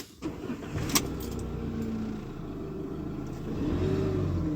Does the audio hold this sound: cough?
no